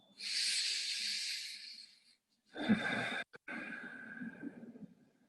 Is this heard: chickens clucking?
no